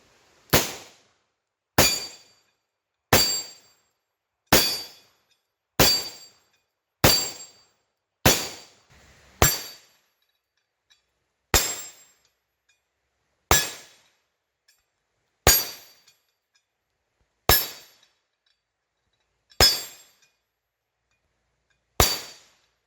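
A Taurus M66 revolver fires .357 Magnum rounds outdoors in river bottoms, fourteen sharp, loud single shots spaced about one to two seconds apart, each with a short decaying echo.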